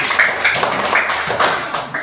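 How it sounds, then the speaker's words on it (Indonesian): A class audience claps for a student group after its presentation, a short patter of light, uneven hand claps from a few people, close and fairly loud. "tepuk tangan kelompok 1"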